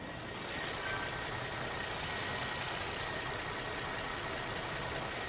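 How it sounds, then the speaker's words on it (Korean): A 2015 Renault Samsung SM7 Nova sedan engine idling smoothly and quietly with the hood open, a steady low hum with a faint whine, close by with no voices. "지금 바로 SM7 노바 차량의 엔진 소리 한번 저와 함께 자세하게 들어보시죠"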